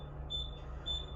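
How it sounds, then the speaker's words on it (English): A truck's low air pressure warning buzzer sounds as the air brake system pumps down to around 72 PSI, giving two steady high-pitched tones at moderate loudness over a low engine idle rumble. "Our low air light and buzzer came on, and we're right around 72 PSI."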